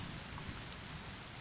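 Steady rain falls in the survival video game The Forest, a dense, even hiss of drops that carries on without a break for the whole stretch, with no voices over it.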